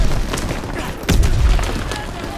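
Gunfire in the World War II shooter Call of Duty WW2: a dense volley of shots and booming blasts, with a heavy close burst midway, loud throughout under faint voice.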